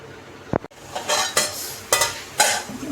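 Anda masala spice paste being sautéed in a pan, short bursts of sizzling and stirring scrapes with a spatula knocking against the pan, close and fairly loud.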